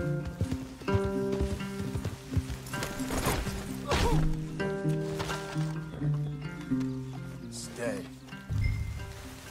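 Horses moving in the video game Red Dead Redemption 2, their hooves clopping in irregular bursts beneath a prominent musical score and occasional voices.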